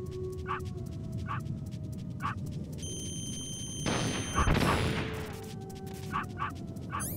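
Dogs in Metal Gear Solid bark in repeated sharp yaps with whimpers, interrupted midway by a loud burst of gunfire and a boom, then barking resumes at a regular rhythm.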